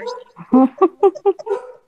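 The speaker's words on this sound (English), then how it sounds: "is he barking because my dog is barking?" A dog barks in a quick series of about five loud, close barks with short gaps, preceded by softer vocal sounds, with no talk over it.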